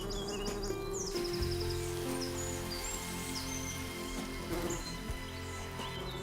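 A scout honeybee hunting for new flowers far from the hive buzzes in short, quiet, close passes, her drone rising and falling among faint outdoor insect and bird sounds.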